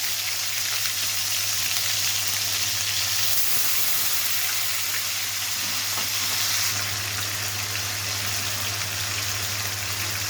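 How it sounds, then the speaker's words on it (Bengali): Onion and spices fry in a pan, giving a steady, loud sizzle that runs the whole time, with faint stirring scrapes mixed in. "এখন আমি পেঁয়াজটা ভালো করে মশলাগুলো সব মিশিয়ে নেব।"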